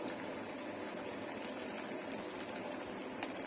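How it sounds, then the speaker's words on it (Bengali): Eggplant fritters (beguni) deep-frying in plenty of oil in a kadai give a steady, dense sizzle and crackle that runs without a break. The sound stays close and even, with no voices over it. "আমি অনেকখানি তেল দিয়ে ভাজছি"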